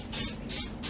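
Olive oil cooking spray is sprayed onto frozen chicken in three quick, close hissing bursts, each lasting about a third of a second, with no talk.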